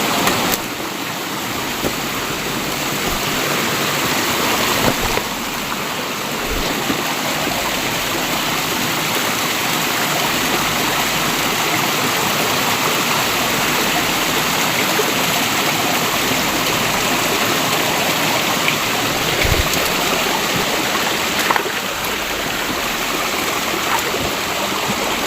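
A forest creek flows steadily among big trees, a dense continuous rush of water close by that fills the whole stretch without pause, with no voices over it.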